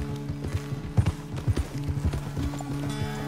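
Horse hooves clopping in Red Dead Redemption 2, a quick run of hoofbeats on the ground under background music, with one louder step standing out.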